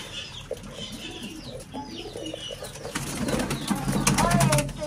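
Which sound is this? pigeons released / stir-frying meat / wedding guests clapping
pigeons released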